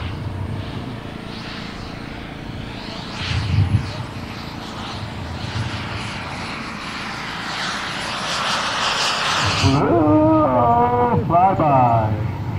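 A jet aircraft makes a gear pass at a Kentucky air show, its roar building and sweeping past over several seconds, while announcer and radio voices talk over it throughout.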